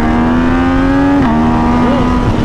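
A Yamaha MT-09 motorcycle drones loudly and close, its engine pitch holding steady, then dropping slightly and rising again as it accelerates, with no talk over it.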